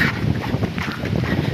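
Strong typhoon wind roars steadily in a continuous buffeting rush against the microphone, loud and unbroken.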